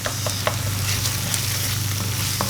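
Tomato paste frying in a pan for keto beef stroganoff, a steady close sizzle with a few small pops and spatters throughout.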